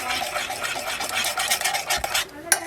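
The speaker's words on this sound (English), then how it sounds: "So mix the mashed bananas in." Mashed bananas being stirred into banana cake batter in a narrowboat galley, a soft, wet, rhythmic scraping and squelching close by with a light clink near the end.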